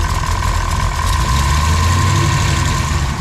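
A Dodge Dakota R/T twin-turbo engine idles close and loud with a rough, steady rumble, with a slight lift in revs partway through from a small throttle blip, and no talking.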